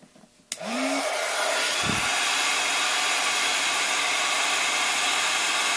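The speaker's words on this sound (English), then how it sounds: "I got a little too close with my heat tool today" Steady loud hiss and whir of a heat tool melting embossing powder on a stamped card, switched on after a brief click and a short squeak, then blowing continuously to the end.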